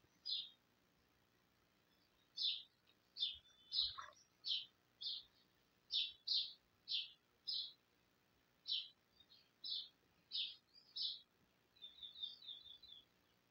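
Birds chirping outdoors on a morning in open countryside: a steady run of short, high chirps at fairly even intervals, soft and somewhat distant, with a quick twittering flurry at the end and no talking.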